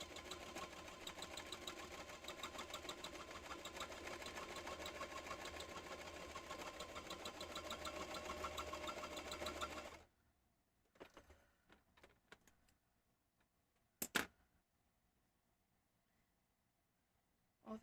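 A sewing machine stitches fabric in a fast, steady mechanical whir for about ten seconds, then stops abruptly, leaving quiet handling clicks and a few short taps and rustles.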